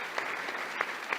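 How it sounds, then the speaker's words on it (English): An audience at an outdoor annual gathering claps for a short burst, with dense, steady applause at moderate level and no voices over it. "round of applause for Tommy and Ollie."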